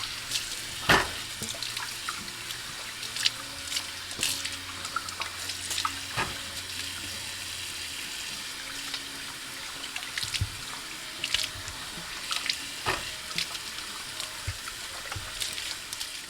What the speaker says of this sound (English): Just clean off the dirt and rinsing them off.